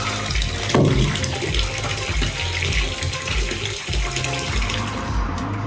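Water running and splashing into a bathtub as a bath bomb goes in, a steady close gushing wash of sound with no talking.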